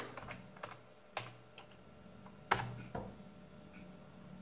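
Keys clatter on the keyboard of a vintage Pentium 1 desktop PC, a handful of close, irregular taps and clicks with short pauses between them and no talking.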